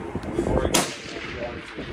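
A single sharp rifle shot at a long-range shooting session, loud and close, with a brief decaying echo and faint background sounds before and after.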